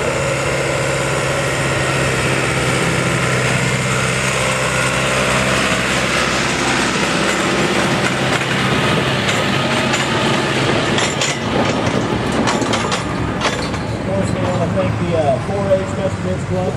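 Tractor engine at an evening tractor pull in Stover, Missouri, a steady loud engine drone running throughout, with an announcer talking over it.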